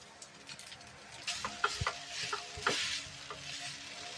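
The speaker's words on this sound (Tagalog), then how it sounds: "Yan, gisahin lang natin yung bawang. Ayan, lagay na natin yung kanin." Garlic fried rice (sinangag) with garlic and rice stirred in a hot pan for breakfast, steady close sizzling and frying with scraping stir strokes and a few sharp spatula knocks, no talk.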